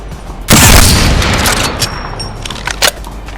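Gunshots fired at training dummies in Apex Legends: a loud burst of shooting that fades, followed by a few scattered sharper shots.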